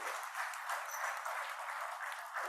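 A crowd claps steadily throughout in honour of Chief Olusegun Obasanjo at an agribusiness food security event in Ibadan, a dense continuous applause with no break.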